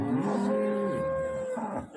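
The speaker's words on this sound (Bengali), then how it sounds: "আর এই যে পাশে হলো গাভী" A cow at a cattle market lets out one close, drawn-out moo that rises and then trails off.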